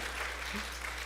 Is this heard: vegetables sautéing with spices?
no